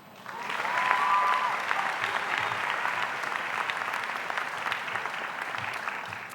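Audience at a high school graduation ceremony breaks into sustained applause, a dense wash of clapping from many hands in a large hall that swells quickly and holds steady.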